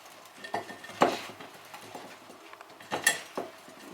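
Salted eggplant being tossed and mixed in a bowl for a layered salad, with light clinks and scrapes of a utensil against the dish in a few irregular bursts, close and fairly quiet.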